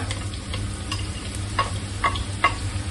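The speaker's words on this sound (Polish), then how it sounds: "Na rozgrzaną patelnię z olejem dodajemy cebulę" Onion frying in hot oil in a pan for Ukrainian borscht, a steady close sizzle with a few sharper crackles and stirring scrapes over a low hum.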